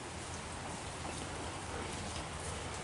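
Rain falls steadily in Michigan with a dense, even hiss of drops hitting surfaces, continuous and close, with no voices.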